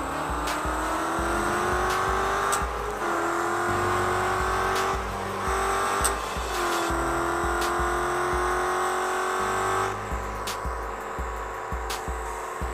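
An Audi A6 V8 quattro with straight exhaust pipes accelerates hard in sport mode. Its loud, close engine climbs in pitch through several gears, with sharp breaks and pops between shifts.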